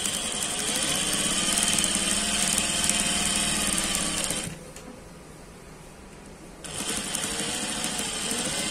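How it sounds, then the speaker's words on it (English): A sewing machine stitching elastic band onto a skirt, whirring fast and steadily up close, dropping out for about two seconds before starting up again. "Place it under my presser foot and sew."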